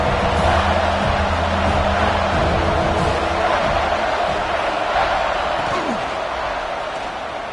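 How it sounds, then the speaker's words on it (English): A large football stadium crowd roars and cheers with the defense in the red zone, a loud continuous wash of voices that swells early and slowly eases, with faint thuds mixed in. "the crowd coming to life here, trying to help this defense down in the red zone"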